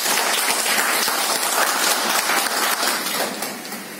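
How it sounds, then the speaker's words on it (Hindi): Loud, dense applause from a large audience at a business seminar, continuous clapping that fills the hall and tapers off slightly toward the end, with no speech over it. "तालियां होनी चाहिए।"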